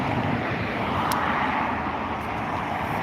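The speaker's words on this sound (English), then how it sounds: "here we have the A330 beginning its taxi again, resuming to the runway" A Turkish Cargo Airbus A330 taxis to the runway at Dublin Airport, its engines giving a steady, distant roar that holds level throughout.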